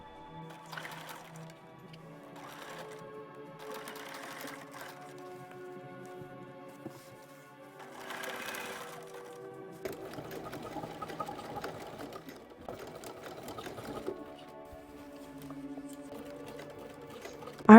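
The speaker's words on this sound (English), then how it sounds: "We are going to base stitch 3/8 of an inch all the way around the raw edges out here" A sewing machine basting stitches around the raw edges of a Barbie Swan Lake–style dress, running in several short bursts separated by pauses, quiet and close, with no voices.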